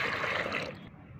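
Water is poured into neem cake to make a plant fertilizer, a short close-up splash and trickle of liquid that fades within about a second.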